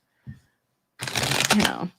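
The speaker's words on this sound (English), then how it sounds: "I haven't shuffled any of these cards since the last time I was live" A deck of playing cards being shuffled, a brief riffle followed by a dense, close rustling burst of about a second, with no talk over it.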